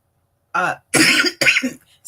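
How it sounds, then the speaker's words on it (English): Three short, harsh coughs, close and loud, separated by brief pauses. "I'm apologizing in advance for my cough"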